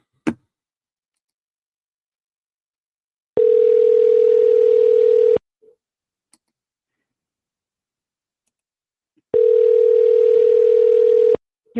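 A ringback tone on an outgoing telephone call: two long, steady purring tones, each about two seconds, separated by several seconds of silence, loud and clear with no talking.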